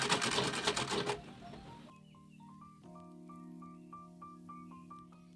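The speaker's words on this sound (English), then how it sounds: "I'm going to sew this. So you have to back stitch." A sewing machine stitching a bag, a rapid mechanical whirring burst at first, then slower, quieter rhythmic ticking stitches with a steady motor hum.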